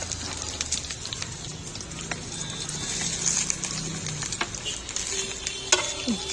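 Potatoes, cauliflower and beans fry in a pan, giving a steady close sizzle with occasional stirring scrapes and clicks of a utensil, no voices.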